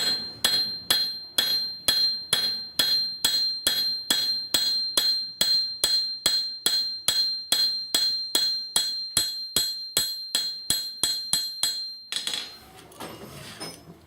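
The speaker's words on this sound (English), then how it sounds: "you take your hammer and just flatten it out" A hammer repeatedly striking a horseshoe nail to flatten it, around thirty sharp, ringing metallic blows at a fast, even rhythm, loud and close, ending in a short scraping rustle.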